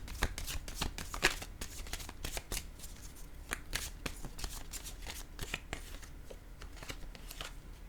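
Oracle cards are shuffled by hand in a close, continuous run of quick papery flicks and riffles lasting several seconds, with no talking.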